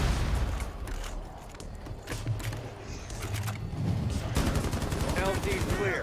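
Sustained automatic gunfire rattles loudly and continuously in a video game, mixed with mechanical clatter and booms, with voices talking through it.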